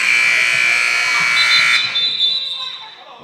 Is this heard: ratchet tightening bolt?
no